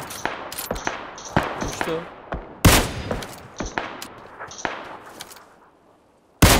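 PUBG Lite gunfire cracks out in sharp bursts of single shots and short volleys, some close and loud, others more distant, with voices talking over them.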